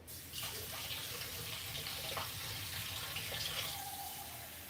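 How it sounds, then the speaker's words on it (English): Tap water pours into an Instant Pot at home, a continuous splashing stream with shifting pitch as the pot fills, close and moderately quiet. "I'm gonna put water in there first."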